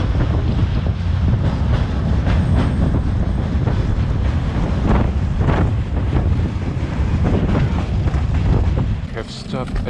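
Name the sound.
wind on top of moving freight train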